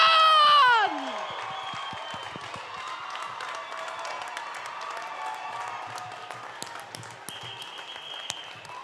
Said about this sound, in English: Let's get a bigger cheer for the Mayor of London, Sadiq Khan!